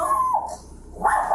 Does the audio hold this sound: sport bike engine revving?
no